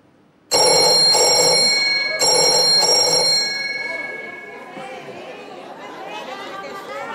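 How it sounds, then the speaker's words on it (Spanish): A loud, bright telephone bell rings in two long bursts in a television studio, with the ringing fading into a crowd's chatter and laughter. "el teléfono asusta mucho"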